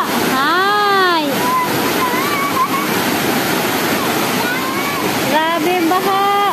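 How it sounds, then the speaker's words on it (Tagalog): Floodwater surges loudly and continuously after a short midday rain, a close, steady roar of rushing water. People shout and call out excitedly over it at the start and again near the end. "Grabe ang baha!"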